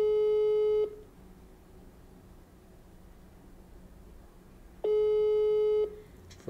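A telephone busy signal sounds twice while a call is being placed, each steady tone lasting about a second and separated by a long gap of quiet room noise.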